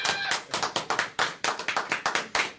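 A small group claps for Breon in a casual studio conversation, a quick run of sharp, uneven hand claps and taps lasting a few seconds, close and fairly loud with no talk over them.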